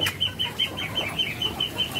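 Chickens on a home farm in Tambirjo village, Demak, flap their wings in repeated rhythmic bursts and cluck nearby, over a thin steady high tone.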